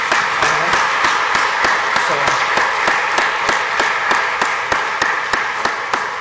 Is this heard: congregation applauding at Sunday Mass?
yes